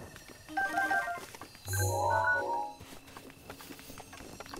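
Horse hooves clip-clopping in Zelda Breath of the Wild, a quiet run of game hoofbeats mixed with chiming game sound effects.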